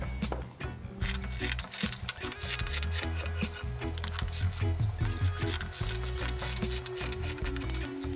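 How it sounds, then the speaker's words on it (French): Scissors cut through fabric for a sewn menstrual underwear project, a steady run of close rasping, snipping strokes that continues throughout with no talk. "On y va pour couper le tissu."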